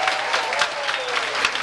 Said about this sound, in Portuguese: uma salva de palmas às mulheres desse Brasil